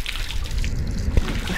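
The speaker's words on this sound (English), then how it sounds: "Now we're about to shower off the best way with the hose" Water from a hose splashes and sloshes during an outdoor shower after a hike on Santo Antão island, a close, continuous spatter with a brief heavier splash near the end.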